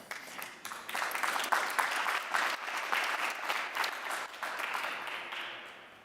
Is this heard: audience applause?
yes